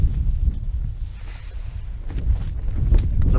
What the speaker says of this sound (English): The wind is just bloody constant.